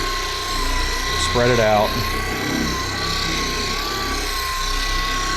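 Ryobi 18V dual action polisher running at 3,000 RPM on a car hood, a steady mid-pitched motor whine with a short surge as it presses in, under a man's close speech.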